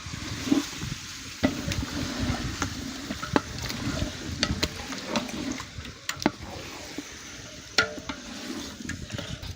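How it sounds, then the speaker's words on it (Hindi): About four kilograms of chicken with onions sizzle in a pot while a spoon stirs and scrapes, giving sharp irregular clinks and scrapes over a constant frying hiss. "चिकन का कलर चेंज होने तक अच्छे से भुनाई करेंगे।"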